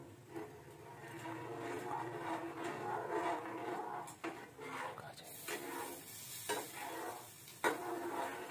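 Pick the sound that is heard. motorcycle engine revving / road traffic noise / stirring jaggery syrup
stirring jaggery syrup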